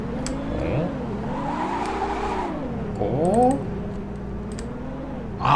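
Engine drone of a vehicle driven in the mobile construction game Construction Crew 3D, a steady rising and falling motor hum with pitch sweeps as it revs, plus a few light tapping clicks.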